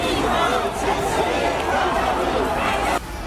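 Crowd of Iranian protesters gathered in a London street, a dense, continuous babble of many voices chattering and calling out, fairly close and loud throughout.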